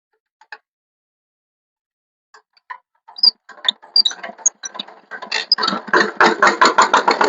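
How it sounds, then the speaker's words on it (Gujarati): A power tiller engine sputters to life: a few scattered clicks and pops, then irregular firing that builds into a fast, loud rhythmic putter of a small engine running close by. "અમે ચાલુ કરી દઈએ છીએ ટ્રેક્ટર"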